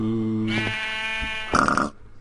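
Grunting pig in the video game Netrock Season 1, a short cluster of bleating, nasal animal calls heard close and clear, with a louder rough burst near the end, no talking.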